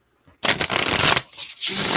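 A deck of oracle cards is shuffled close up in quick riffling bursts, a dense papery flutter that pauses briefly before resuming.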